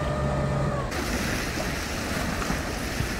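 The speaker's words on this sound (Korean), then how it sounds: "배가 한 대 지나가면은 그 파도 너울이 이렇게 일어나네요" Seaside waves kicked up by a passing boat wash and churn continuously near the shore, a loud rushing surf with a low motor rumble and some wind.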